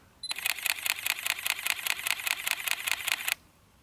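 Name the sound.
camera shutter continuous shooting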